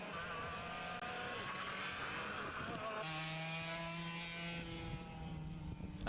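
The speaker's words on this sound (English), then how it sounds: "you can hear by the tone of the engine that he is just bringing this one home" A racing kart engine at a Super One Series race at GYG howls steadily through a long pass, its tone rising and then holding high and loud, with crowd and circuit noise behind it.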